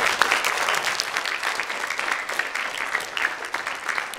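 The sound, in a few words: audience applause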